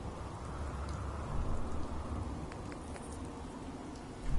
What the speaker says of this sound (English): Out in all of this rain.